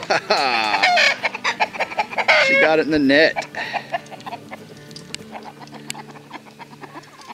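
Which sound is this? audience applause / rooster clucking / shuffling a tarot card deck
rooster clucking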